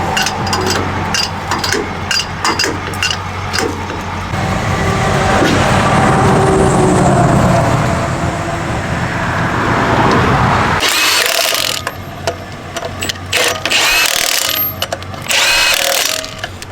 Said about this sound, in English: Come on, little bottle jack the camper